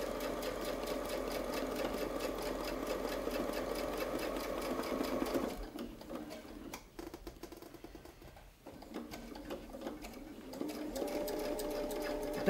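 Sewing machine stitching fabric, running in a steady fast rhythm close by, slowing and pausing briefly midway before resuming.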